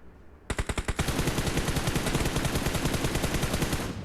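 Automatic gunfire in the mobile game PUBG Mobile: a few spaced single shots, then a long, loud, steady burst of rapid fire lasting several seconds with no talk.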